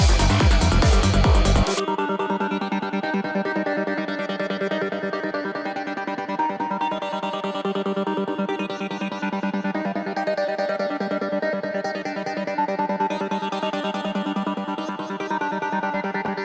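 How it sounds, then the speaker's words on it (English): A synthesizer preset plays in an Ableton psytrance build-up, a sustained, bright, harmonically rich tone holding steadily for many seconds after a short noisy burst at the start, loud and alone. "So I replaced this quickly with a little bit more sophisticated synth preset"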